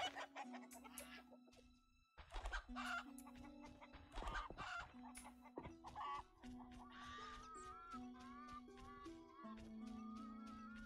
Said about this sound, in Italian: Le galline.